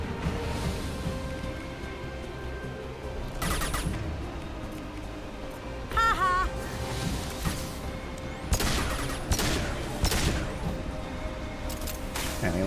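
Pistol shots in Mass Effect 2, a handful of sharp separate cracks spaced irregularly over ambient game background, moderately quiet overall.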